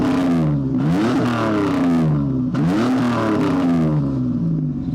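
A V6 Chevy Camaro with modified exhaust revs up twice, each blip rising and falling in pitch, loud and close, with no talking.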